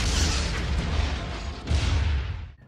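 A deep, rumbling car explosion from dynamite in a film roars and sustains for a couple of seconds, then cuts off abruptly into silence.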